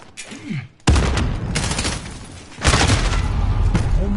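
Loud, dense bursts of gunfire and booms from the video game Call of Duty, with heavy sustained volleys after a brief quieter gap, close and continuous.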